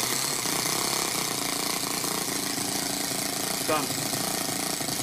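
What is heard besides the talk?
Toyan FS-S100A miniature four-stroke engine starting and running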